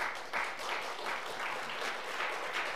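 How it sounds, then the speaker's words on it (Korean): A church congregation applauds its teachers and educators during an afternoon worship service, giving a steady, dense wash of clapping from many hands that fills the room evenly from start to finish. "함께 박수를 보내주시면 좋겠는데요"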